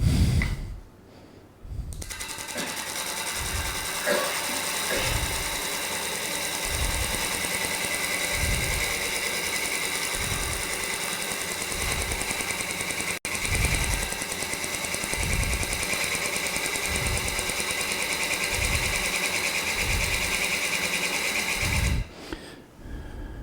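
A carbide turning tool being ground on a grinder, a steady broadband machine whine running almost continuously with regular low thumps pulsing underneath, briefly dipping near the middle and stopping near the end.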